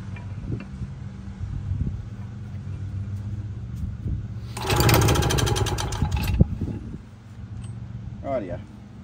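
A 65-year-old Victa lawn mower with a new spark plug being turned over, a low mechanical rumble under talk, then a louder burst of whirring and clattering lasting a couple of seconds before fading back.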